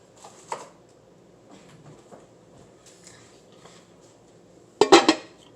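A crockpot lid is picked up and set down: faint scattered clinks and taps, then a loud cluster of ceramic and glass clatters near the end, close by with no talking.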